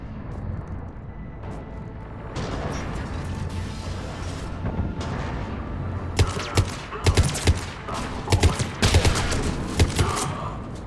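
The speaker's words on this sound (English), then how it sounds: "Those cannons have to be stopped." Heavy cannon fire in the video game Mass Effect 3, a steady rumbling battle din giving way in the second half to a string of loud, sharp blasts and bursts in quick irregular succession.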